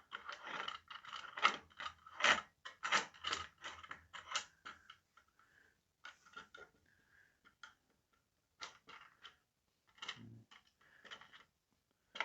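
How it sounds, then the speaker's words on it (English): A black part at the bottom of a Banggood gadget is wound down by hand to tighten it, giving close, dry ratcheting clicks in quick bursts with short pauses between turns. "just wind this black bit down at the bottom to tighten it"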